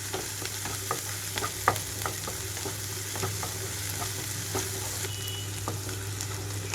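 Onions frying with other ingredients in a pan for a cauliflower chana dal curry, a continuous soft sizzle broken by repeated light clicks of stirring, with no voices.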